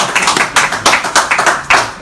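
Scattered audience clapping during a live political talk show, a few hands beating out uneven, distinct claps close by, sparse rather than a full ovation.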